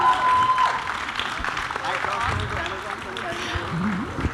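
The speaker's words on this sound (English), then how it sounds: "Let's hear a huge round of applause for them." Audience applause greeting the Amazon family at a media photo op, a dense steady wash of clapping from a crowd that holds for several seconds with some voices mixed in.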